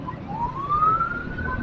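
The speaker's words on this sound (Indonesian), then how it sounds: "soalnya di belakang ada ambulan ya. Jadi ambulan harus didahulukan teman" An ambulance siren sounds from behind a car on Jalan Diponegoro in Surabaya, a single rising wail that climbs steadily over the low rumble of traffic, moderately loud and fairly close.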